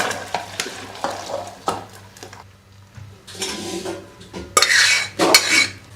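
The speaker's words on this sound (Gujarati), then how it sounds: "દાળને આપણે આ રીતે એક મોટા વાસણમાં લઈ લઈશું" Dal is scooped and poured into a large cooking pot, with repeated metallic clinks and scrapes of a spoon against the pot and a few wet sloshing pours, close and uneven, with no talk.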